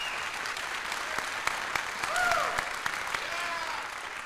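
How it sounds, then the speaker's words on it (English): An audience breaks into steady, even applause at a live keynote event, a broad wash of clapping with occasional sharper individual claps and a faint whistle or cheer rising over it midway. "A round of applause"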